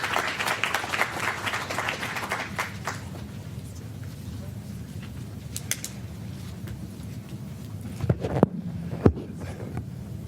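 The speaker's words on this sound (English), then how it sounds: "Let's give a round of applause." A round of applause from the audience at a CDC health equity forum claps loudly at first, thins out within a few seconds, and gives way to a quiet room with scattered thumps and rustles.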